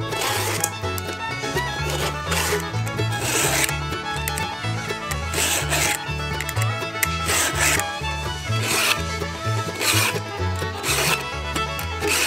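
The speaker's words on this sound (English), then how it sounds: "Another thing we always have to do after using the chainsaw is to sharpen the blades of the chain" A file sharpening the teeth of a chainsaw chain by hand, with repeated rasping strokes in an even back-and-forth rhythm, close and clear, each stroke a gritty scrape.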